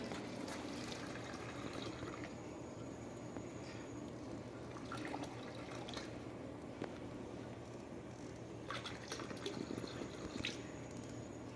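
About 1,500 ml of liquid is poured while cherry wheat beer is brewed, giving a continuous splashing, gurgling flow with scattered drips that holds steady at close range throughout.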